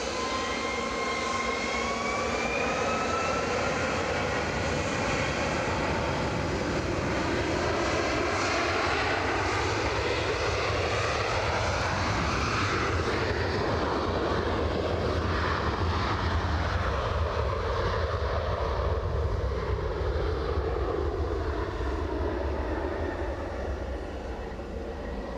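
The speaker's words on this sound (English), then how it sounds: "757 is shortly to blast off to" A Boeing 757 takes off at Edinburgh Airport on a drying runway, a loud, continuous engine roar with sweeping, shifting tones that rises and holds throughout, no talk.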